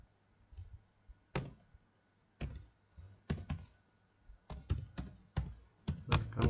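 Code is typed on a computer keyboard, close crisp key clicks coming in irregular bursts and single taps with short pauses between, with no voices.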